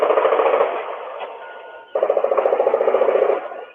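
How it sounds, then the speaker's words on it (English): Multiple rounds of gunfire near a church, picked up by a doorbell security camera: two rapid bursts of sharp, evenly spaced reports with a brief lull between, harsh and somewhat distant. "Ring camera video near the church also captured what seemed to be multiple rounds of gunfire."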